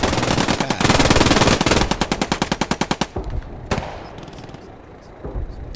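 MG42 machine gun in the video game Post Scriptum, set in a forest battle, rattling off loud rapid bursts with sharp rhythmic reports, then a few scattered single shots as the firing dies down.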